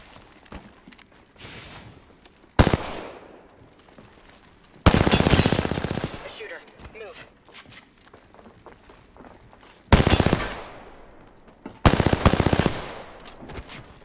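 Automatic gunfire bursts out in Apex Legends, several loud, close volleys separated by quieter stretches of game sounds and movement.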